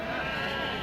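Sheep bleat at a busy livestock market, a short wavering cry sounding through dense crowd murmur and nearby voices.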